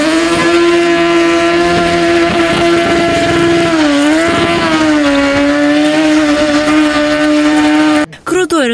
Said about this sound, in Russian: Так что угадывать, где сейчас автомобиль, остается по реву мотора